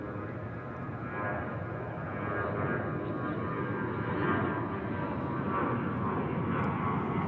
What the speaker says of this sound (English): So that is the 747-400, folks, landing from Anchorage